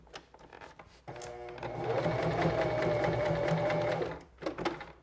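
A SINGER 1234 sewing machine runs a short seam on tote bag fabric, a steady close motor whir of about three seconds framed by brief handling noises, with no talk over it.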